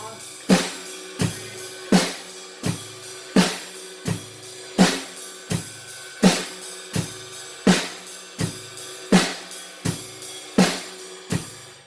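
A drum kit plays a steady groove, sharp hits repeating evenly with a left-foot hi-hat pedal ticking quarter notes underneath, loud and close, no voices.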